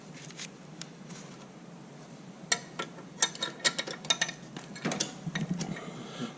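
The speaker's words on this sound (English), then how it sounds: "13mm box end wrench and a 5mm Allen wrench." Wrench work on a trike fender stay, a 13mm box end wrench and a 5mm Allen wrench turning bolts, gives a run of close, quiet metallic clicks and ratchety ticks, irregular and clustered, over a soft background with no talk.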